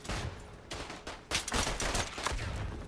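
Weapon fire in the WWI shooter Isonzo on the Italian Front, from a top-magazine gun with heavy recoil: a dense run of close, loud shots and bursts that crowd the whole moment.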